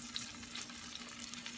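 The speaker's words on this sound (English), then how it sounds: "In cooking this spam, don't overcook it" Slices of Spam frying in a pan give a faint, steady sizzle, an even crackling hiss with no break, heard alone.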